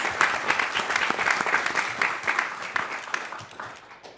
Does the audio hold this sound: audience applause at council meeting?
yes